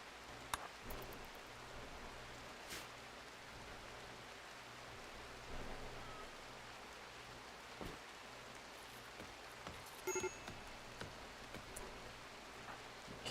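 Steady rain patters in the Rimworld video game at night, a soft, even wash of drops with a low repeating hum underneath and a few faint clicks, no talking.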